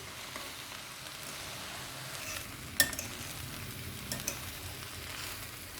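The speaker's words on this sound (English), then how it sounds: "fold the rice so that you are not going to break the rice here" Veg fried rice gets folded and stirred in a pan with a soft, faint, continuous sizzle. A spatula clinks sharply against the pan now and then.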